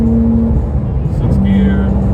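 Porsche 997 GT3 pulling hard in fifth gear after a transmission repair, a loud, steady engine drone from inside the car with a tone that climbs partway through.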